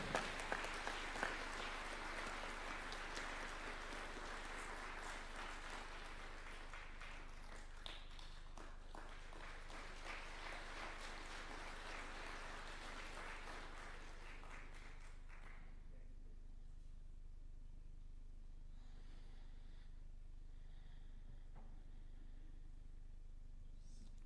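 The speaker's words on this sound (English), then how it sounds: "Another clap would be in order." Sustained applause from a crowd at a swearing-in of Senior Counsels at State House, Nairobi, dense and steady for about fifteen seconds before fading out into quiet room tone.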